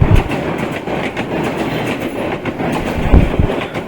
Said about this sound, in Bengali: দেখলাম যে একটি ট্রেন আসতেছে ট্রেনটি হয়তো মাত্র ভাওয়াল রেলওয়ে স্টেশনটি ক্রস করে আসলো